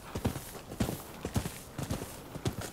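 Hooves of a horse clip-clopping in Rise of the Ronin, a steady trotting rhythm of soft, close thuds repeating about twice a second with no talk over them.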